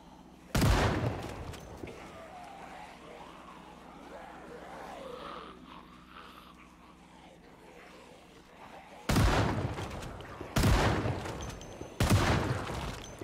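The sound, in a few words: shotgun firing in the video game Cataclysm: Dark Days Ahead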